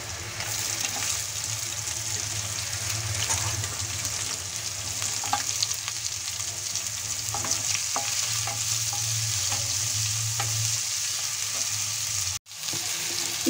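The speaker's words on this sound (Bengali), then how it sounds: "রসুন হালকা ফ্রাই করে নেওয়ার পর এখন আমি দিয়ে দিচ্ছি পেঁয়াজ কুচি।" Chopped onion dropped onto lightly fried garlic sizzles loudly and evenly in hot oil, with steady stirring scrapes running throughout and a sharp brief break near the end.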